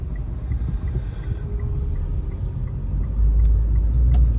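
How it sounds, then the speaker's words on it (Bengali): Road traffic pulls away from a junction as the signal changes, a low engine rumble that swells gradually and grows louder toward the end, with a few faint higher mechanical notes on top. "এই যে সিগন্যাল ছাড়ছে, এখন আস্তে আস্তে সবাই যাইব"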